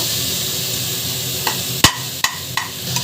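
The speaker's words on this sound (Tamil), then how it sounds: "நல்லா வதக்கிக்கோங்க" Tomatoes sauté in a hot pan with a steady close sizzle. A few sharp knocks and taps of the spoon sound against the pan over the sizzle.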